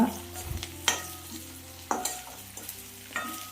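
A pan of green chillies with turmeric and chilli powder being stirred, giving a few distinct scrapes and clinks of the spoon at roughly one-second intervals over a faint, steady sizzle, with no voices.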